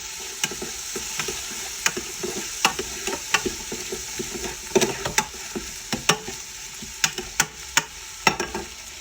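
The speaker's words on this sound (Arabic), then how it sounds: "واحمس يا بطل." Veal, carrots and tomato paste sautéing in a pan, a continuous sizzle broken by frequent sharp spatula scrapes and stirring taps throughout, close and fairly loud, no voices.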